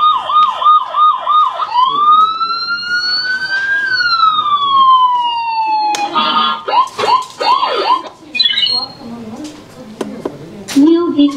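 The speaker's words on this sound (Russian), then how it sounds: "Это включение сирены." A child's toy police car, a Dodge model, sounds its electronic siren loudly and close, first a rapid warbling yelp, then a long rising and falling wail, then choppy yelps again, with someone talking over parts of it.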